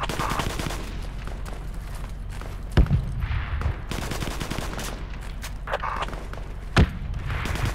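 Distant gunfire in the military shooter Project Reality, muffled pops and a couple of sharper nearby shots over a steady ambient rumble, with no talking.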